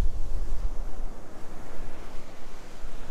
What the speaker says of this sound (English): it's a little bit windy out here. It's got the waves churned up a little bit